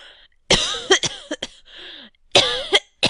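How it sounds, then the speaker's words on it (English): Several harsh, hacking coughs from a man in a damp wine cellar, close and loud, coming in two bursts with wheezy, throaty breaths and a short pause between them. "How long have you had that cough?"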